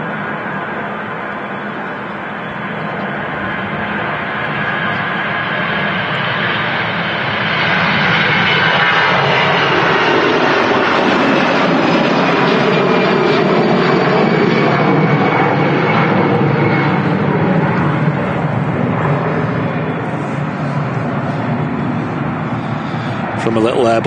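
A large Airbus jet at Manchester Airport roars steadily and loudly, its engine noise swelling after the first few seconds and holding strong to the end, with a voice talking over it.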